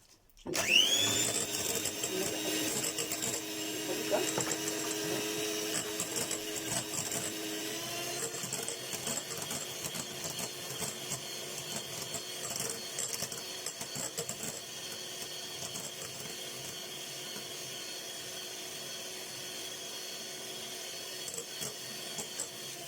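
Electric hand mixer beating Spanish sponge cake batter in a bowl, a steady loud whirring drone that holds unbroken for the full length with slight shifts in pitch as the batter thickens.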